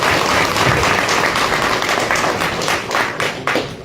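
Dense applause from a crowd at a local political gathering welcoming MLA Vikram Singh Jakhar, loud steady clapping with scattered sharp hand slaps throughout.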